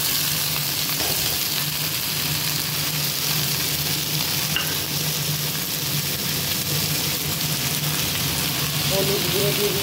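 Ivy gourd sizzling as it is added to hot oil in a pan, a steady loud frying hiss with faint stirring running throughout.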